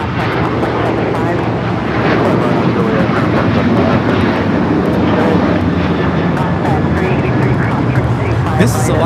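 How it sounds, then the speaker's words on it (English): An Alaska Airlines Boeing 737-800 jet takes off at LAX, its engines roaring loudly and steadily throughout with broadband thrust noise, and a voice talks over the roar. "This is Alaska Airlines Flight 6 taking off to Washington Reagan National on the 737-800"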